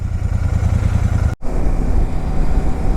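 A Royal Enfield Super Meteor 650 motorcycle riding on a highway, its engine thrumming loud and steady with a momentary cutout before the rumble resumes, close and without speech.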